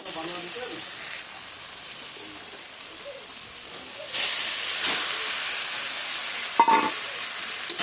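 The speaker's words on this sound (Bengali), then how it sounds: "এবার আমি এর মধ্যে বাসি ভাতটা দিয়ে দেব।" Stale rice fries in a hot pan with a steady steam-like hiss, swelling louder midway, with a few scraping stirs and sharper crackles toward the end.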